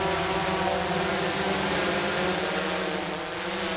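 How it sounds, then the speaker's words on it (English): A remote-controlled UAV drone flies nearby with a steady, dense buzzing whine. The sound holds constant at fairly strong volume throughout, with no speech. "This flying, buzzing, remote-controlled machine goes by many names: UAV, drone, or UAS"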